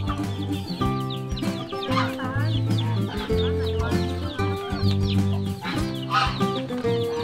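Native heritage chickens cluck and call nearby in a busy, overlapping chorus, with steady layered clucking filling the whole stretch.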